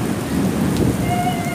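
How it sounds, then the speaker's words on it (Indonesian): Heavy rainstorm with wind in Mecca, Saudi Arabia, a dense steady roar of rain pouring down close by, with a faint distant rumble and no voices. "hujan badai di Arab Saudi"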